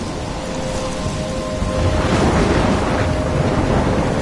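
A stormy seascape: steady roar of surf and gusting wind fills the whole stretch, swelling louder after the midpoint, with a faint tonal hum running underneath and no voices.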